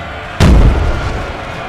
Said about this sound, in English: Yes, big artillery hit.